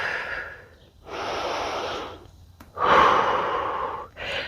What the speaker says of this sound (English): So arms above head, breathing in deeply.